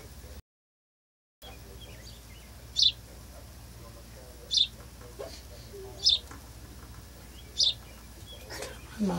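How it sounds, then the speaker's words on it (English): An adult bird repeatedly calling to its fledgling, outdoors: four short, sharp chirps spaced about one to two seconds apart, fairly close, over a quiet background hum. "I can hear Mama calling to the bird, telling it to come on"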